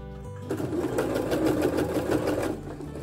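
Sewing machine stitching bias binding as a finishing edge, stitch length set to 3.5, running steadily and close after a brief quiet start, a dense continuous mechanical whir with no talk.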